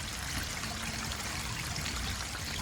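Waste water rushes steadily out of a Jayco 27BHB travel trailer's holding tank through a clear drain fitting, a constant close, loud gushing stream with no voices.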